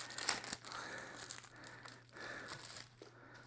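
Plastic packaging around a guest book's sticker sheets crinkles and crackles faintly up close, in irregular bursts of rustling with no voice over it.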